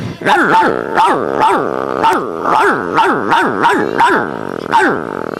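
A person mimics a dog, letting out about ten steady, rhythmic barks at close range, each short and gruff, with no pauses for talk.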